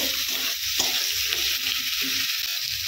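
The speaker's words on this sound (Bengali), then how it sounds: "ভালো করে মশলাটা কষিয়ে নিব" Chopped tomato and masala fry with a continuous close sizzle, while a spatula stirs and scrapes the pan in irregular strokes; no one speaks.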